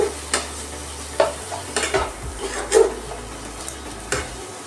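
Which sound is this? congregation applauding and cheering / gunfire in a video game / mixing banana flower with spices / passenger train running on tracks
mixing banana flower with spices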